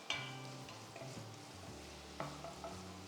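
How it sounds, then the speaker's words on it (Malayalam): Onions and green chilies sauté quietly in a pan, a soft sizzle beneath a few utensil clinks and stirring scrapes, faint and close with no voices. "അതുവരെ ഒന്ന് വഴറ്റിയെടുക്കാം"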